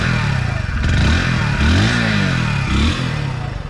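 A 2024 Hero Passion Plus motorcycle exhaust revs up and settles several times, its rising engine note loud and close. Light mechanical clatter sits beneath.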